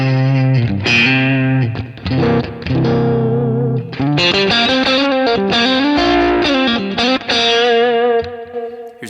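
An electric guitar through a Kemper profiler, pickup position four, plays a loud, overdriven chordal passage with rich harmonics and a slight chorus shimmer, strummed and picked without pause.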